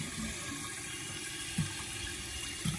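Faint, steady trickle of water in a toilet tank, a thin continuous hiss with a couple of soft low gurgles.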